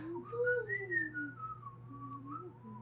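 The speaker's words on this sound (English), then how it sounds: "Whistle covers of other songs." A person whistles a melodic tune covering a pop song, a clear wavering line of notes, close and fairly quiet, with no talking.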